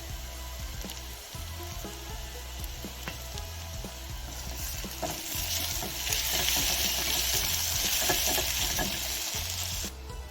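Tamarind and ginger fry in a pan for an okra curry, a continuous close sizzle with faint stirring clicks that swells louder and brighter partway through, then cuts off sharply near the end.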